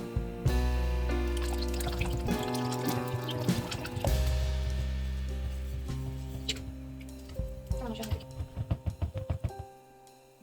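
Egg and milk mixture poured gradually into a sauce for lasagna while being stirred in a pot, soft liquid pouring with clinks and scraping of a utensil, ending in a series of quick taps near the close.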